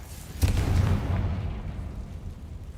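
A Confringo blasting spell in Hogwarts Legacy goes off as one sharp, loud explosion, followed by a rumbling, fading boom that lingers for about two seconds.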